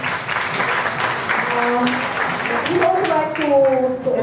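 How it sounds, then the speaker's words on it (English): Applause from the audience at an awards ceremony goes on under a speaker's voice, the clapping steady and moderately loud throughout. "Let us give another round of applause to Ms."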